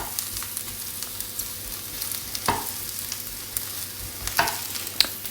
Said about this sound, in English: It basically just wants regularly stirring. Try and get some of the mushrooms onto the bottom of the pan.